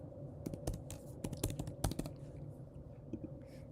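Text being typed on a computer keyboard while designing an ID card: a quick burst of close key clicks in an irregular rhythm that thins out into a few sparse taps, quiet overall.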